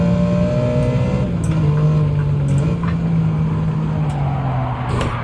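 A racing car's engine drones steadily while it overtakes a BMW in the Gran Turismo 7 video game, with a constant, moderately loud tone that rises and falls slightly in pitch and a few faint ticks over it.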